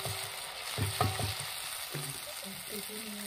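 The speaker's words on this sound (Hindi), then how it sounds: "बस तेल में इस तरह से डाल दीजिए हल्का हल्का हल्का" Egg flower roti dough being lowered into hot oil, village style: a constant crackling sizzle with a few soft knocks and splashes as the dough hits the oil.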